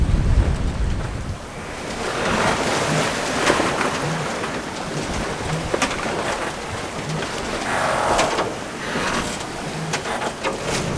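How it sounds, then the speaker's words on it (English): Rough sea surges and crashes around a sailboat in a stiff northeasterly wind off the Basque coast of Spain, with water rushing and sloshing in uneven swells that rise and fall continuously. "It's quite a big sea running."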